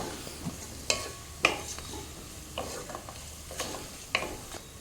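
Whole biryani spices such as bay leaf, shahi jeera, cloves, cardamom, cinnamon, mace and star anise stirred and frying in a pan, with soft sizzling and scattered close spoon scrapes and clinks.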